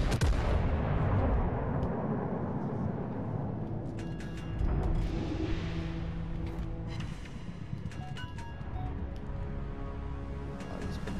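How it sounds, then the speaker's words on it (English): Naval artillery in World of Warships: Legends, battleship guns firing in deep booming salvos with rumbling blasts and echoing decay, loud and continuous, with no talking. "All stations requesting fire on the designated target."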